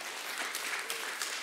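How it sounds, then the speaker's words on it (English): A church congregation breaks into steady, broad applause, a dense wash of many hands clapping at moderate distance with no one talking over it. "yeah, we can clap for that"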